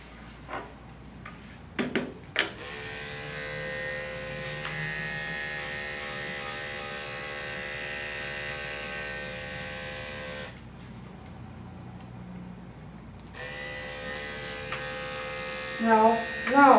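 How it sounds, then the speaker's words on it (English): An electric dog grooming clipper on a Biewer Terrier hums with a steady, close buzz that cuts off briefly and then starts again. A person talks now and then over it. "no licking the clipper, okay?"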